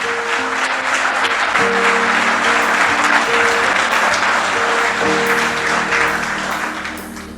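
A church congregation claps steadily and loudly through a sermon, with sustained musical tones running beneath the applause before it eases slightly at the end.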